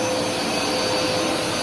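A Hoover Smartwash carpet cleaner runs continuously on a carpet, a steady, loud broadband motor drone with a faint high whine, unbroken and with no voices.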